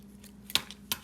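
Scissors snip twice during resin flower crafting, two crisp close clicks about a third of a second apart over quiet room tone.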